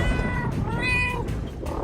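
House cat meowing loudly and close, a few drawn-out wailing calls in a row with brief gaps between them, alone with no talk.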